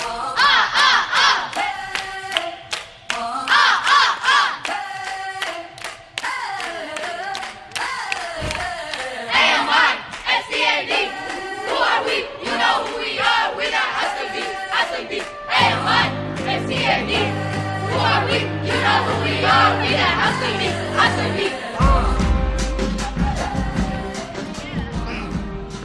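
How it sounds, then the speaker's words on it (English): Amistad house members performing their tradition chant, a loud group of voices shouting rhythmic call-and-response phrases with bursts of cheering, and a heavy bass beat joining partway through. "For Amistad, their tradition chant sounds like this."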